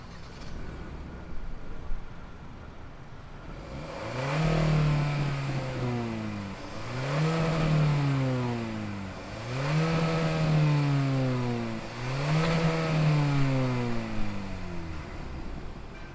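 A 2022 Hyundai Kona N-Line engine turns over and settles, then climbs through four rising revs with falling drops between them. The revs are loud and close, heard alone with no talking.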